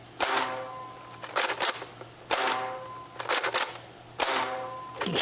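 A K26 airsoft gun on its stock spring fires super light rounds in three sharp mechanical bursts, each a quick cluster of snappy clicks followed by a short pause.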